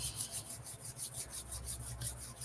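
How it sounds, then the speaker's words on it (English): Hands rubbing together, a soft rhythmic swishing friction repeating about eight times in steady strokes, close and quiet, with no talking. "So rub your hands together,"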